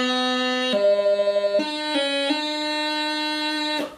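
A piping throw on D ornament played from B, with a reedy sustained tone, a rapid warbling grace-note cluster, then several note changes resolving into a long held D that cuts off cleanly, played solo and up close.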